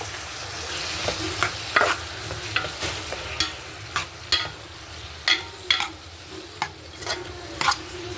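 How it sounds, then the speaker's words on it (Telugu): Vegetable curry with tomato pieces cooking in a pan, stirred with a spoon in a steady series of distinct scraping strokes over a soft bubbling sizzle, close and fairly loud with no talking. "కూర ఒకసారి తిప్పుకుందాం ఫ్రెండ్స్ చూడండి ఉడుకుతుంది"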